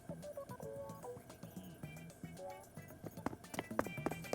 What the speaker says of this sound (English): My footsteps are super loud now.